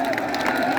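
A big crowd at a farmers' rally claps and cheers together in a steady, close wash of applause that lasts under a second.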